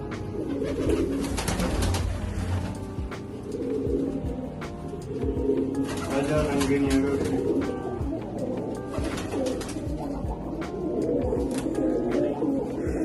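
Pigeons coo steadily and continuously, several soft throaty calls overlapping, with occasional rustling and fluttering close by as a pigeon is held in hand.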